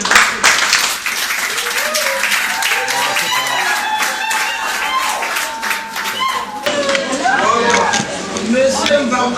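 Wedding guests applaud at a civil marriage ceremony in France, steady clapping from a roomful of people lasting throughout, with a voice speaking over it partway through.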